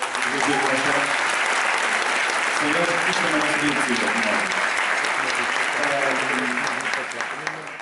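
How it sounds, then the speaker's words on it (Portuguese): Auditorium audience applause at a school event, a thick, loud, sustained roar of clapping filling the hall while a speaker talks into a microphone over it. "já agora lançavam palmas para eles, por favor"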